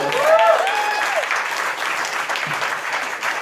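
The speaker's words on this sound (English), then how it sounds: "Another round of applause for Becky White." An audience applauds at a holiday-season evening show, steady clapping filling the whole stretch, with a voice briefly audible near the start.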